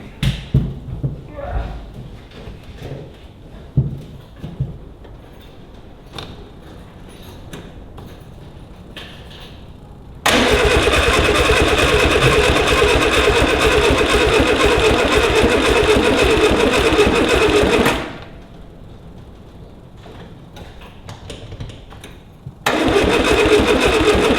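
A Mini 1275GT is cranked with the choke out after long disuse; quiet fiddling and thumps give way to a loud, steady starter-motor whirr that cuts off, then resumes after a brief pause.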